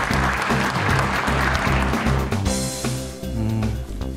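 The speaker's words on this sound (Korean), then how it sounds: "큰 박수 부탁드립니다." Loud, sustained applause from a large crowd at a political party event, steady clapping filling the space for several seconds with rhythmic low thumps underneath.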